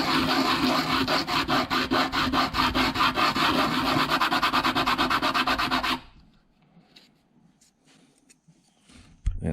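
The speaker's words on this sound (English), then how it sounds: "we can flat sand some of this." A 3D printed GoPro mount is flat sanded on 80 grit sandpaper in fast, rhythmic back-and-forth rasping strokes, loud and close for about six seconds, then stopping and leaving near silence.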